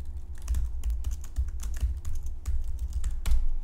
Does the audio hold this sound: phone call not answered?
no